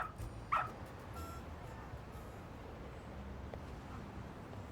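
Dog in the game Lost Judgment gives a short yelp and whimper early on, followed by faint whines over a low background rumble.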